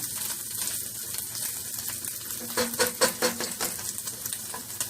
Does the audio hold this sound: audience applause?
no